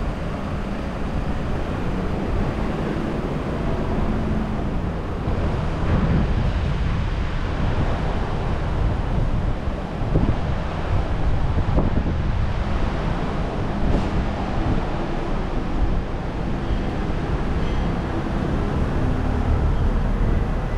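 Steady roar of sea surf at Kisarazu, Japan, with continuous wind buffeting, no clear individual wave breaks, loud and constant throughout.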